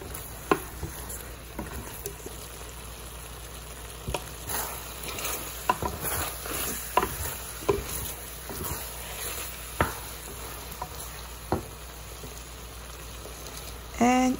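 Pork belly fries in a pan with pepper, garlic and green onion, giving a steady low sizzle broken by scattered clinks and scrapes of stirring, with a louder clatter near the end.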